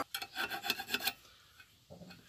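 A hand file sharpens the tips of a ground steel pipe-thread cutter. About five quick rasping strokes come close together, then a pause, then one more short stroke, all quiet and close.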